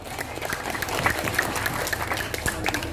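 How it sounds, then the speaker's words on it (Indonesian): A village crowd clapping for the local village head, a continuous lively patter of hands heard alongside background music and murmuring voices. "Tepuk tangan buat Pak Lurah."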